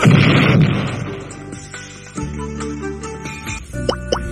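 A bomb effect in a Dou Dizhu card video game: a loud bursting boom at the start, followed by bright tonal game jingles and chimes, with no talk over it.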